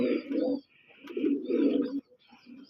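Native pigeons at a pigeon farm in Manikganj, Bangladesh, coo close by in low, rolling, throaty phrases, three bursts separated by brief pauses.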